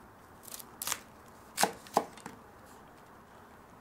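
A kitchen knife cuts the core out of a quartered red cabbage on a board, giving a few sharp, separate crunching chops close up in a quiet room.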